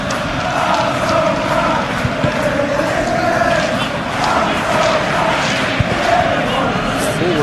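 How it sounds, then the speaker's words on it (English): A football stadium crowd at a Champions League match between Liverpool and PSG fills the air with a continuous, loud, low rumble of moans and groans that stays steady throughout. "the moans and groans from the stands now are very audible"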